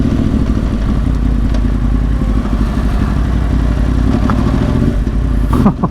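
A 2010 Yamaha R1 1000cc sport bike being ridden on the road, its engine a loud, steady close-up drone with low rumble and wind roar throughout, rising slightly near the end.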